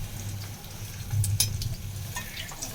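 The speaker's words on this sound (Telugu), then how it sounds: "మీడియం ఫ్లేమ్లో పెట్టేసి ఒక్కొక్క పూరీలు వేస్తుంటూ ఫ్రై చేయాలి" Puris deep-frying one at a time in hot oil over a medium flame, a steady close sizzle and bubbling crackle with a few sharper spatters and clinks, no voices.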